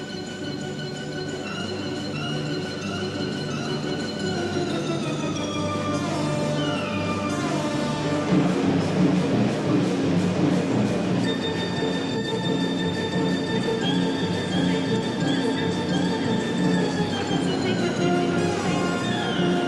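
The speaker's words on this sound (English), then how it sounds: "We're now travelling in the metro" A Moscow metro train in motion: a steady loud rumble of wheels on rails with long squealing tones rising and falling across the ride, heard from inside the car.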